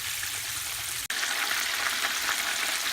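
Chicken wings frying in hot grease, a dense, even crackling sizzle that runs steadily throughout with only a momentary dip.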